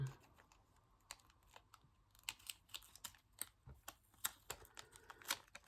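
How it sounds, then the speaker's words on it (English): Scissors snip out a small paper dragon, giving a quiet run of short, crisp cuts in an irregular rhythm, close up and faint, and no talk. "See if I can cut this dragon out."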